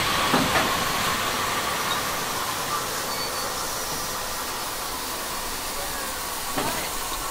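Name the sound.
steam locomotive hissing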